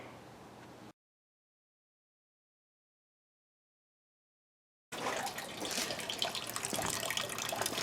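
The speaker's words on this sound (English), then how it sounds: "Draining the radiator." Coolant from an Oldsmobile radiator drains with a gushing, splashing pour, a brief burst at first, then a stretch of silence, and then a louder steady flow to the end.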